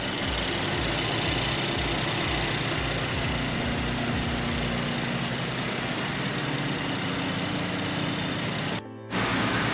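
A 2020 Mercedes-Benz E 450 4MATIC engine idles steadily and close by, a continuous low rumble with a brief dropout near the end.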